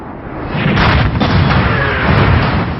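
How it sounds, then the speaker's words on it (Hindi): Heavy bombs, two of about 1000 kg each, strike an ISIS cash-storage building in Mosul, giving a sustained loud, rumbling blast roar with dense low-end boom throughout and no voices. "करीब 1000 किलो के 2 बम इस बिल्डिंग पर गिराए गए।"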